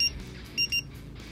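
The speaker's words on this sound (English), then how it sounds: "this is the timer, as I mentioned, you stop timer and then it will just start beeping." A rechargeable digital countdown timer beeps twice in a short quick pair, loud and close against a quiet room.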